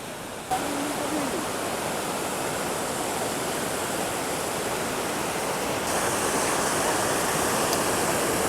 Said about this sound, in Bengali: এই হলো রাতমোহনার ঝর্ণা।